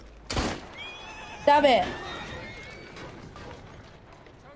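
A horse in the Assassin's Creed Syndicate video game neighs loudly after being shot, a sharp shrill whinny following a gunshot-like burst, with a voice exclaiming over it.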